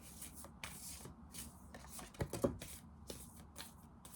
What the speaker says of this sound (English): Oh, it's hard to shuffle that way.